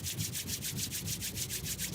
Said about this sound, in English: I invite you to rub the palms of your hands together.